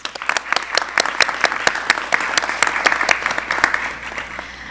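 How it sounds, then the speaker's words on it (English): Steady, fairly loud applause from an audience at a high school IB graduation ceremony, with dense rapid clapping that carries on for several seconds and fades slightly at the end. "Let's give these incredible students another round of applause."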